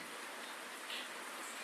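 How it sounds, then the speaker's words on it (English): Rain falls as a steady, soft, even hiss of broadband noise with no distinct drops, fairly faint and continuous throughout, with no voices. "let me know if it gets hard to hear as this rain comes in"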